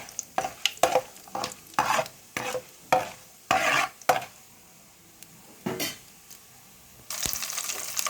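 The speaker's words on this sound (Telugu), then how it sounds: "పోపు దినుసులు వేసుకుందాం." Whole spices for a tempering crackle and sizzle in hot oil in a pot for a drumstick and tomato curry, with bursts of loud spluttering broken by short pauses and a steady sizzle near the end.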